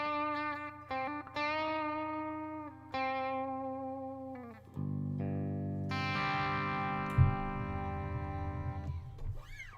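Heavy metal guitar through a hall reverb pedal, sustained distorted chords and single notes ringing out with long, spacious tails, played loud and alone with no talking.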